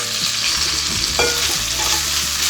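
Boiled raw banana pieces are stirred in a frying pan for a South Indian poriyal, with a steady hot sizzle and soft scraping strokes close by and no voices.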